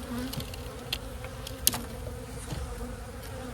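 Honey bees drone in a steady, close buzz at an opened boosted hive, with occasional individual bees zipping past nearer the ear.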